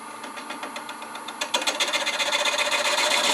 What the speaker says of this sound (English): Use my detail gouge to